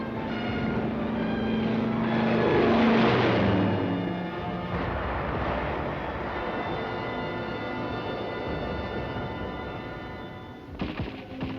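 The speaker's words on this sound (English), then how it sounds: "Here, infantry watch United States planes strafing the enemy in the nearby hills." Aircraft strafing enemy positions in hills during the Korean War, a loud broad roar of engines and gunfire that swells to a peak, then a sustained rumbling drone with a few sharp thumps near the end.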